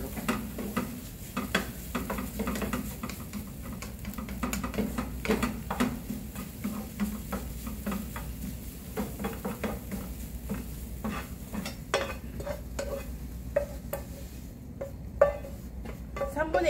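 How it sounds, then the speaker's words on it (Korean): Spinach stir-fried in a pan for a Western cooking practical exam, with a soft continuous sizzle and scattered clicks and scrapes of a utensil against the pan, moderately quiet and with no one speaking. "팬 쓰는 김에 시금치까지 볶는 걸로"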